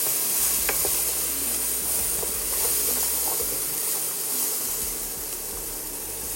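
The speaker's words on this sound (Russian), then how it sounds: "Немного обжариваем, чтобы специи с нутом подружились." Chickpeas and spices fry in a stainless steel pan, giving a steady, close hiss and sizzle that holds at an even level throughout, with faint scattered crackles and no talking.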